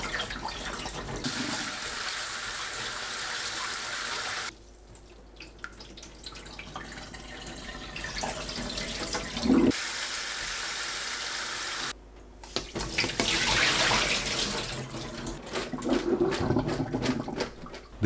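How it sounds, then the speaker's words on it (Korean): Sweet potatoes rinsed under running water in a kitchen sink, with a steady splashing tap stream that pauses and restarts several times, close and fairly loud. "5분 후 물에 헹궈 체에 받쳐둡니다."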